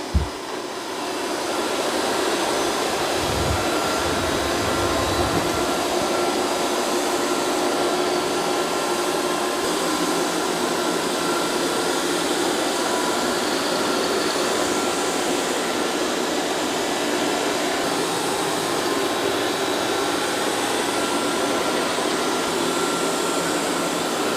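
A Eufy X8 Pro robot vacuum cleaning a kitchen floor near cabinets, a steady loud whirring suction drone that starts with a brief clatter and then holds constant, close by, with no talking.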